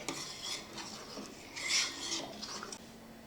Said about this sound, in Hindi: थोड़ी थोड़ी देर बाद जो है वो चम्मच चलाना है इसमें।